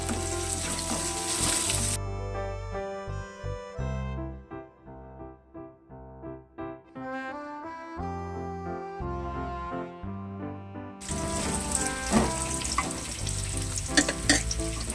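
Onions fry in a pan with a handful of curry leaves and chopped green chili for a chicken fry, a loud sizzle at the start and end with music playing between.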